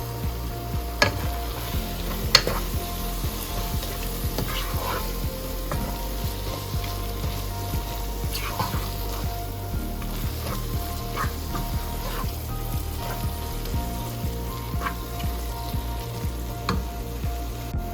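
Mutton masala with cumin powder sizzles steadily in a pan while it is stirred, a constant frying crackle broken by occasional sharp clicks of the spoon against the pan.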